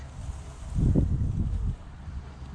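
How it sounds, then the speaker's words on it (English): Wind gusting across the microphone beside a fishing lake, a low buffeting rumble that swells for about a second and then eases back into a steady, softer blowing. "but it is windy."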